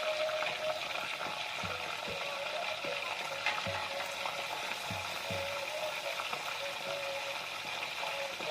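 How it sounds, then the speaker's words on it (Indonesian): Tuna fish frying in a pan of hot oil, a steady close sizzle and crackle with occasional soft thumps from the pan or utensil, without talk. "Sekarang kita goreng ikannya."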